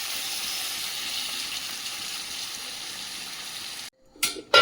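Water is poured onto fried meat curry, giving a loud, steady steam hiss and sizzle close by that holds for several seconds, then cuts off abruptly, followed by a couple of brief knocks.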